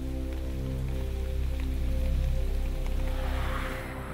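Rain falls in a dense, steady hiss over a constant low hum that runs through the whole stretch, with no voices.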